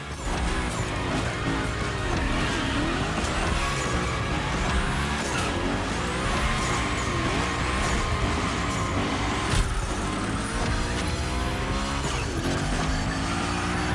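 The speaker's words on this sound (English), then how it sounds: "we're gonna rough up the Hoonigan a bit. We're focusing on Gymkhana essentials, big slides and precision" The Hoonigan gymkhana car sliding in The Crew Motorfest, with a revving engine and tires squealing through repeated big drifts, loud and continuous throughout with shifting pitch.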